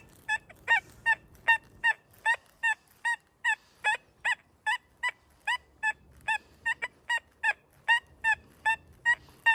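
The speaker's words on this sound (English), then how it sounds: "Got that high-pitched sound letting you know it's a high conductive target." An XP Deus II metal detector swung over a buried quarter gives a long run of short high-pitched beeps, steady and evenly spaced, over faint outdoor background.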